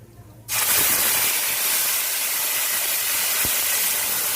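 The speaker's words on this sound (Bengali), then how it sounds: "we have put the tomato puree along with the bay leaves and the cumin seeds together in that same oil" Tomato puree hitting hot oil with bay leaves and cumin seeds, bursting into a loud, steady sizzle after a quiet start and holding close and strong throughout, with a small clink partway through.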